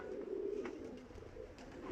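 Pigeons cooing softly at a pigeon loft, a faint low murmur with no voices.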